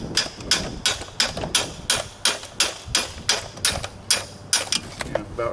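A wrench struck repeatedly with a hammer while scrapping a Dewalt compressor, giving a steady series of loud, close metallic blows at roughly regular intervals with no pauses.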